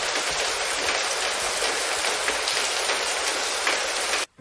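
Steady rain falls continuously on a surface outdoors near a rain-protected electrical outlet, a dense even hiss with no voices, cutting off abruptly at the very end.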